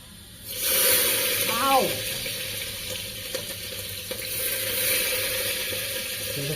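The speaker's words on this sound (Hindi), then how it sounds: "उसके बाद मैं डालता हूँ मिर्ची और लहसुन।" Chili and garlic hitting hot oil with cumin in a home kitchen pan, a close steady sizzle with a brief swell as they go in, then settling into a softer fry.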